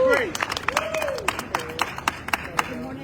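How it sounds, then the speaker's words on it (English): Audience applause greeting Chef Grace Ramirez at a New York multicultural chambers of commerce press event: scattered, uneven claps from a modest crowd, with a voice speaking over them throughout. "Let's give a big applause,"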